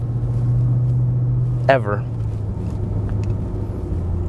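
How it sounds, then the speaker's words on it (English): Lexus IS-F V8 engine while driving, a low, steady rumble from inside the cabin under a man's brief speech, with a short rising tonal sweep partway through. "You hear the V8."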